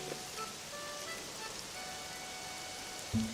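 Heavy rain beating against a window, a steady dense hiss of drops that runs throughout at moderate level, with a short low bump near the end.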